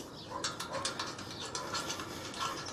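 Ratchet wrench tightening nuts and bolts while a JSPORT roof rack is installed on a Honda Ridgeline: rapid, faint clicking pawl strokes in short bursts, fairly quiet with no talking.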